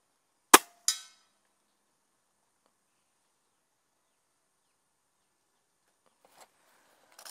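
Two sharp reports from a Diana Outlaw Gen2 air rifle crack in quick succession at the start, followed by long near-silence and a couple of faint ticks near the end.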